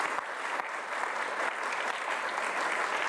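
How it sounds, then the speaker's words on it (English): Audience at a volunteer recognition event gives steady, dense applause that holds at an even level for the whole few seconds, with no voices over it. "Let's give Kristen a round of applause."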